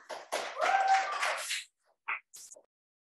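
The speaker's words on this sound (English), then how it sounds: "I am so happy to hear applause in the physical room" Applause from a room audience at an art talk: a dense burst of clapping for about a second and a half, then quiet with a couple of small, isolated taps.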